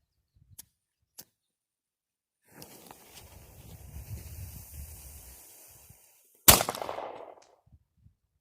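A miniature artillery cannon fires once with a sharp, loud blast, preceded by a few faint clicks and a stretch of low rumbling handling noise, then a short decaying tail.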